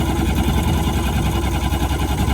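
A Sea-Doo personal watercraft's two-stroke engine runs steadily up close, a loud, continuous buzzing drone with a slightly rough, pulsing idle and no pauses.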